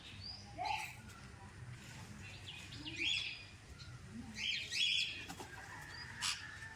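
Several birds chirp and tweet intermittently in short bursts, fairly close, over a quiet background with a faint low hum.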